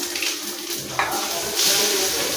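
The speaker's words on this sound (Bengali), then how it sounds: "জিরে আর কালো জিরে ফোড়ন দিয়ে পেঁয়াজকে দিয়ে দিই" Sliced onion dropped into hot oil with a cumin and nigella seed tempering gives a steady, loud hiss of sizzling with a brighter surge partway through, no voices over it.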